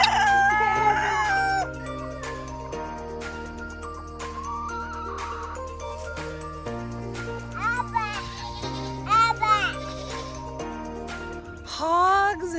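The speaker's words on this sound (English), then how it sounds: "I can hear the roosters." Roosters crow on a family farm and apiary, a few rising, wavering calls standing out mid-clip and near the end over a steady background hum, with people talking nearby.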